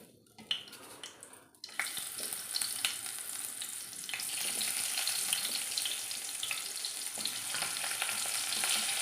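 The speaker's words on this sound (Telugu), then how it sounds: "సన్నగా ఉల్లిపాయలు వేస్తున్నాను." Food hits hot oil and a loud, steady sizzle starts, then grows denser and keeps crackling close by.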